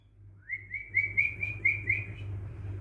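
A parrot gives a close, clear run of rising whistled chirps, several quick notes strung together over a faint low background hum.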